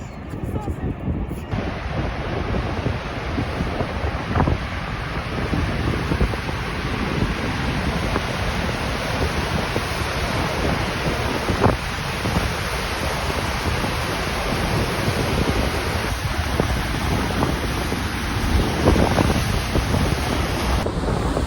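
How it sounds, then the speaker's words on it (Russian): A powerful, continuous roar of rushing water at Niagara Falls fills the scene, steady and broadband, with gusts of wind buffeting the microphone. "Это самый крутой водопад, который я видел."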